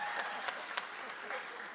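Applause rises from the audience at a talks and discussion event, a fairly quiet, steady spatter of clapping with a few sharper claps standing out.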